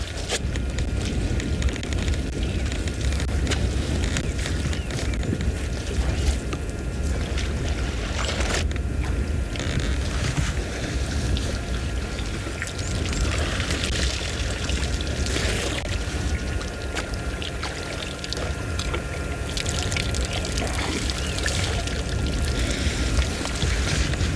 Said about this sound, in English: Nothing like an elephant splashing in the water.